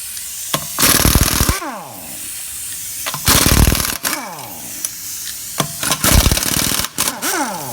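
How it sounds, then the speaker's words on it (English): A Honda Accord wheel comes off with a 19mm socket on an impact tool, three loud rattling bursts of hammering whir with sharp spin-down whines between them, close and alone. "Start by removing the wheel with a 19mm socket."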